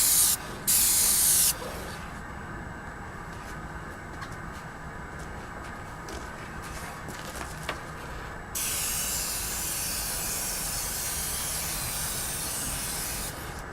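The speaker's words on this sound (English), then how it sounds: "That airbrush works great." An airbrush sprays thin coats of paint onto motorcycle wheel parts, giving a continuous airy hiss that cuts in and out in bursts and holds steady for long stretches, close and fairly loud.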